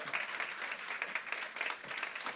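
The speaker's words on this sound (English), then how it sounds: "Let's clap again, please." Audience applause at a live on-stage conversation with a chef, steady moderately loud clapping from a seated crowd filling the whole stretch without speech.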